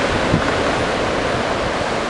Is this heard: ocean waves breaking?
yes